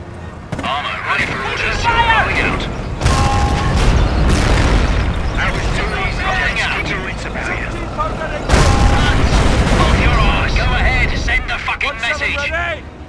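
Heavy booms from a 17 pounder anti-tank gun and other artillery firing in a 1944 Company of Heroes battle, with repeated loud blasts and crackling gunfire throughout and two especially sharp reports, under soldiers' radio-style voices calling out.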